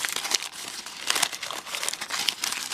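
Decorative paper wrapped around a miniature toy palm plant crinkles and rustles close up in irregular bursts, with sharper crackles between softer handling.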